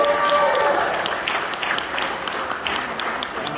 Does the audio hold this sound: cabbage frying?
no